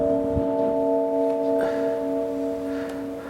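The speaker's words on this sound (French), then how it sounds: "ce prétendu coup de gong est en fait composé comme un timbre qui est composé comme un accord" A synthesized gong-like stroke built as a chord, with several steady pure tones held together in a sustained ringing blend and faint soft knocks underneath, even and unchanging for the whole stretch.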